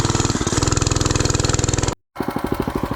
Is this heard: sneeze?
no